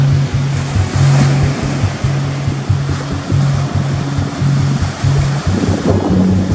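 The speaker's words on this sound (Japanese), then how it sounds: "右の奥ではブレイクがありますね。" Surf breaking at a home surf point in nearly calm conditions with a light offshore breeze, heard as a loud, continuous wash and rumble of waves with wind noise over the microphone and a steady low hum throughout.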